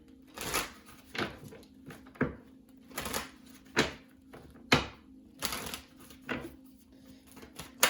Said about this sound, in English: I'm going to do a quick shuffle here.